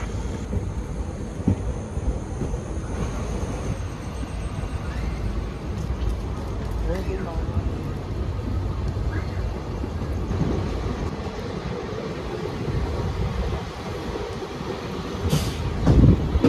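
Overnight Ganpati special train running on the Konkan Railway past Roha station in light rain, a steady close rumble of wheels and carriage noise throughout, with a brief louder clatter near the end.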